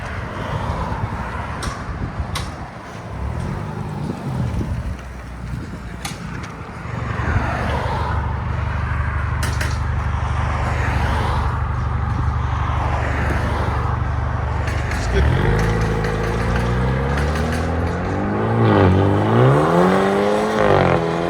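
A 2015 BMW 328i with a 2.0L turbo four and straight pipes idles loud and close, then gets revved hard from about fifteen seconds in, the pitch climbing and falling through several sharp blips with no talking.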